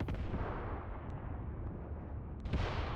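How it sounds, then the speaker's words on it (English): Artillery guns firing smoke shells in the Mius Front war game make a dense, rumbling barrage with a few sharper cracks near the start and end, loud and continuous without speech. "now these guns, I think they're firing smoke grenades at this point"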